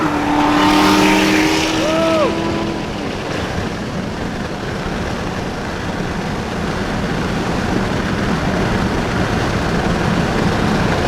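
A loud modded Corvette races a boosted Honda, with a strong, sustained engine roar and rushing wind noise close by. A few rising tonal sweeps come in the opening seconds.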